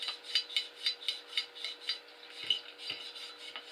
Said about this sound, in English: And if you scrub it, that really gets the rifling out.